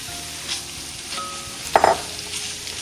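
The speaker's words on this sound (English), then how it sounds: "we're going to add the sausage meat, and we're going to cook that until it's nicely browned" Sausage meat and onions browning in a frying pan, a soft steady sizzle with a few light stirring taps and one brief clink near the middle, heard close and alone.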